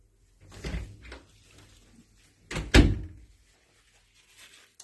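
A stretchy resistance band is looped around a door handle, producing two short thumping knocks against the door, the second louder, with quiet pauses between.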